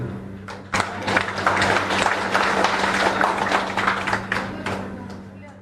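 A crowd applauding at a political party's 2019 election manifesto release, a dense sustained patter of many hands clapping for several seconds, loud and close.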